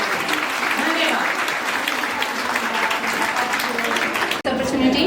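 An audience at an International Women's Day event held by the Railway Board claps loudly and continuously, a dense wash of applause that breaks off abruptly near the end and then resumes.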